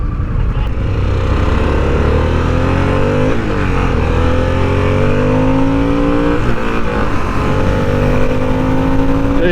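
A 2024 Harley-Davidson Sportster S motorcycle accelerates hard, its loud, close engine note climbing steadily through rising revs with brief shift dips, filling the whole stretch continuously.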